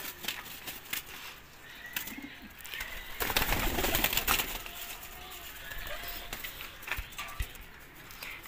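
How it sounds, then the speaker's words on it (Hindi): Pigeons moving about with soft cooing and scattered wing flutters, a burst of louder flapping midway, nearby and fairly quiet, no talking. "तो गोल्डन कबूतरी माशा बड़ी स्ट्रोंग है"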